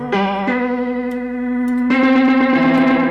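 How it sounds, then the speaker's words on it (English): Sustained, loud guitar notes through a TAL stereo delay plugin, repeating echoes trailing behind them, the tones shifting and layering as the delays pile up. "it's actually a stereo delay"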